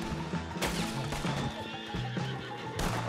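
Horse neighing in the video game Red Dead Redemption 2, a loud whinny rising over busy game music with clip-clopping hooves, fairly close and steady across the moment.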